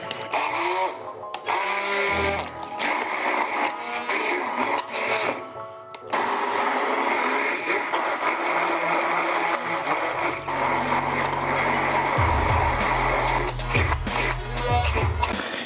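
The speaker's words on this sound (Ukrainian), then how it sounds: "Починаємо перебивати." Blender whipping homemade mayonnaise from egg yolks, lemon juice and mustard, a loud steady motor whir that runs throughout with shifting pitch as the mixture thickens, and a deeper droning hum in the last seconds.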